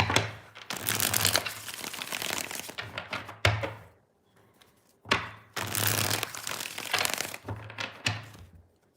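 Tarot cards shuffled by hand during a mini reading, two long bursts of dense papery riffling and crackling separated by a short pause, close and moderately loud.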